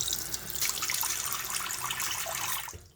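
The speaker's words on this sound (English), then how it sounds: "Turn the water back on, both valves." Water hisses steadily from a sink tap turned back on after a leak repair, close and continuous, then cuts off abruptly near the end.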